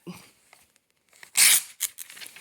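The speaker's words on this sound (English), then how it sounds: "I take my ruler and I hold it on here really flat and I just pull that page quickly to make a cut." A book page is torn quickly against a ruler held flat, giving one loud, close ripping burst followed by a few shorter tearing scrapes and light paper rustles.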